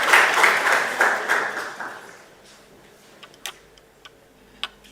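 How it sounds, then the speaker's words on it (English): Newly sworn guild leaders at a handover ceremony clap for themselves in a broad burst of applause that is loud at first and fades over about two seconds, leaving a quiet room with a few scattered late claps. "Clap for yourselves."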